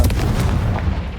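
Confringo blasting spell cast during the Percival trial in Hogwarts Legacy on hard difficulty, a dense, loud, rumbling boom that starts abruptly and keeps rolling through the clip without any talking.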